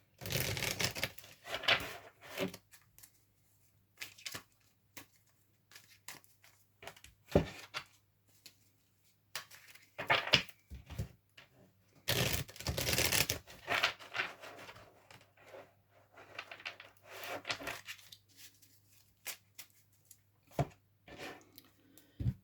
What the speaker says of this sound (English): I'm gonna do some nice shuffle here.